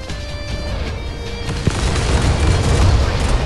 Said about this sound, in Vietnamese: Nào chuẩn bị pháo chính thôi này. Một phát pháo chính thôi nhá.